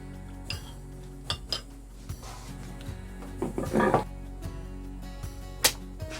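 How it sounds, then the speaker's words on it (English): Cooked ribs are lifted out of a crock pot into a pan on the stove, a series of close clinks and knocks of utensils and cookware with one brief busier clatter in the middle. "We're ready now to take our ribs out of the crock pot and put them on the stove in a nice sized pan"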